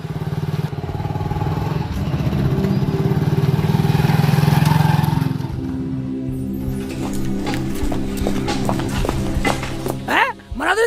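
Motorcycle engine running steadily and loud through the first half, then idling lower while faint thumps and clatter sound, with a brief dip near the end.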